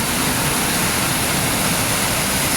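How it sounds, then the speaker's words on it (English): Heavy rain downpour pouring down hard outdoors, a loud, dense, continuous broadband roar with no talk over it. "it's downpouring. Hold on, guys. It is really coming down."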